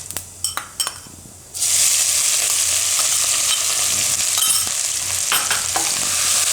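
Ginger and chilies drop into hot oil with cumin and burst into a loud, steady sizzle after a few light utensil clicks. The frying hiss runs strong and continuous to the end, with occasional stirring clinks.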